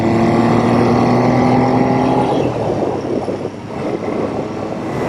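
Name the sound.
Triumph T160 Trident motorcycle engine while riding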